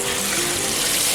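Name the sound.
water poured into a pot of corn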